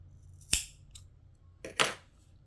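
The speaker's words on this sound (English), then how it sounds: "I'm just going to cut little triangles here just so I mark the center" Fabric scissors snip small triangle notches into folded fabric for a t-shirt, giving two crisp close cuts, the second a quick double snip, in a quiet room.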